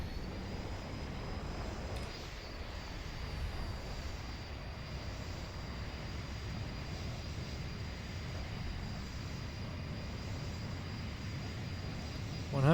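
A small, tiny and fast light airplane's engine runs at full power with flaps down during the takeoff roll, a steady, loud broadband roar with a faint whine that holds evenly throughout.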